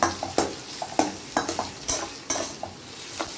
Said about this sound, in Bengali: তো এটাকে আমি মোটামুটি হালকা করে একটু ফ্রাই করে নেব